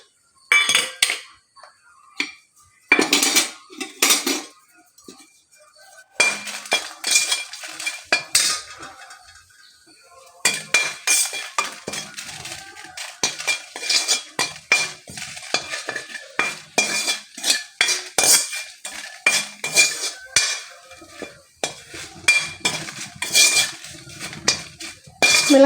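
Dry red chillies roasting in a pan with a utensil scraping and clinking against the metal, producing bursts of stirring rattles separated by brief pauses, close and fairly loud, with no talking.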